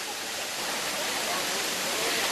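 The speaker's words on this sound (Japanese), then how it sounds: "沖縄に綺麗な滝がありました" A waterfall in Okinawa pours in a steady, unbroken broadband rush, close and even throughout with no voices over it.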